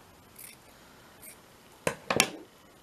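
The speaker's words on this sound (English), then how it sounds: "Let's cut a little bit off." Scissors snip through a small piece of scrap material, a couple of quick close cuts after a faint earlier rustle, with no talking.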